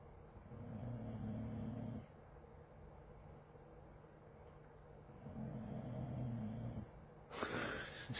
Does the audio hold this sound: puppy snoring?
yes